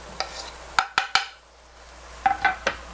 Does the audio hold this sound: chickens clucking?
no